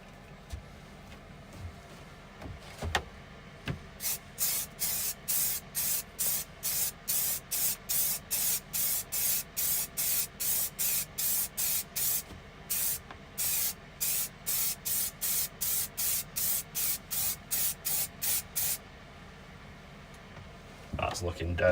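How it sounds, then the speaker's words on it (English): Lacquer sprayed onto an epoxy side table in short, evenly spaced hissing bursts, about thirty in a steady rhythm, close and crisp over quiet workshop background. "let's put another coat of lacquer on"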